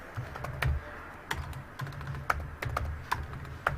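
Someone types code on a computer keyboard, quiet close clicks in short irregular bursts with small pauses between them.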